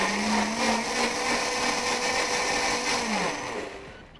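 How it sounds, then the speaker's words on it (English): A blender purées butternut squash soup with a steady, loud whirring drone that holds for about four seconds, its motor pitch shifting slightly, before tapering off at the end. "throw it in the blender. Right, we're just gonna blend it up."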